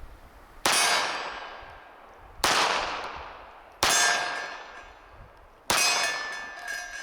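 A Walther CCP M2 .380 pistol fired one-handed, with a loose grip, sounds four sharp, loud reports spaced about one to two seconds apart, each trailing off in a ringing decay.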